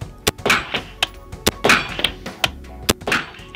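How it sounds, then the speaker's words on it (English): Sharp dry-fire trigger clicks, each followed by a softer thunk as the trigger is reset, repeating in a fairly even rhythm, close and distinct with no talking. "That's the sound of an educated trigger finger practicing trigger control."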